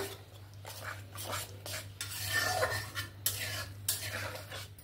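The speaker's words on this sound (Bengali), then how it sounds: "দিয়ে ভালো করে মশলার সঙ্গে মিক্স করে নেব" A spoon stirs thick sour yogurt into spices in a pan over a low gas flame for a vegetarian potato, pointed gourd and soybean curry, making soft, rhythmic scraping strokes close up and fairly quiet.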